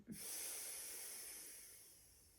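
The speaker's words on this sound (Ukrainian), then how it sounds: "Вдих через ніс. Видих на також протягом 5 секунд через ніс." A single slow breath drawn through the nose during a kundalini yoga meditation, a soft airy hiss that rises quickly and then fades gradually, close and quiet with no talking.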